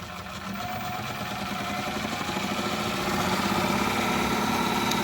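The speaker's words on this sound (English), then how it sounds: "it speeds up to 600 RPM on that. It's rattling a bit because that's too close to the shelf." An electric motor running up toward 600 RPM while rattling against a nearby shelf, a steady close mechanical hum with fast buzzing vibration that grows slightly louder partway through.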